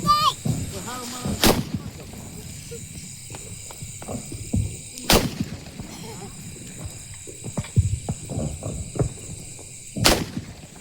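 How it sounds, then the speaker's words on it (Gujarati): Diwali firecrackers set off in a farm field, three sharp loud bangs spaced a few seconds apart, with faint crackling and people talking between the blasts. "હાલો ભાઈ હવે ફટાકડા ફોડે રાખીએ ફટાફટ."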